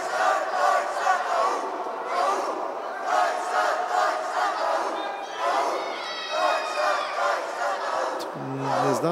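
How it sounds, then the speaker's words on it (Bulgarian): At a boxing finals event, a large crowd chants the Icelandic battle cry in loud, rhythmic pulses that repeat steadily, while a commentator talks over the chanting. "и скандира бойния вик на исландците."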